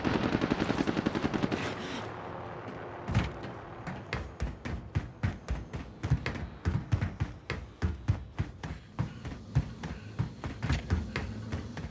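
Gunfire in Call of Duty: Modern Warfare, a dense burst of automatic fire at first, then a long run of sharp, regularly spaced shots, loud and close with no talk.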